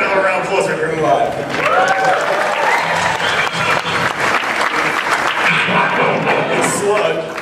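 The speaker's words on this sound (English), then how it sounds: "Give another round of applause for Grimlock." At a Transformers 30th anniversary show at Universal Studios Hollywood, a crowd claps loudly and continuously for the Dinobot Grimlock, with a presenter talking over the applause and a few scattered cheers.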